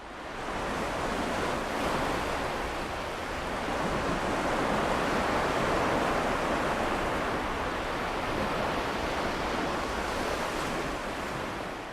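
Sea waves wash continuously onto a beach, a broad steady roar of surf with gentle swells in loudness and no voices.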